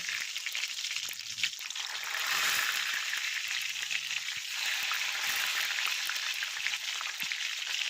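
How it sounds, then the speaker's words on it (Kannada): Chopped tomatoes frying in hot oil for a tomato curry, giving a steady, bright hiss and crackle of sizzling that swells slightly as it settles, close and continuous with no voices. "ಈಗ ನಾವು ಕಟ್ ಮಾಡಿ ಇಟ್ಕೊಂಡಿರೋಂತಹ ಟೊಮೊಟೊನ ಇದರೊಳಗಡೆ ಹಾಕಬೇಕು"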